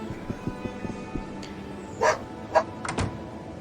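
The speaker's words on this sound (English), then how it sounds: "There's a dog barking outside" A dog barking in the game Arcanum: a few short barks heard in the background, a couple of them louder and sharper, over quiet ambient game sounds and faint thuds.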